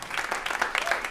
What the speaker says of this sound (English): Keep clapping while she transitions.